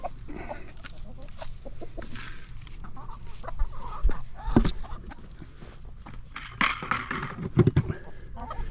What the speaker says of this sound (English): There's Rudy. He's our rooster, and let's just give them some treats.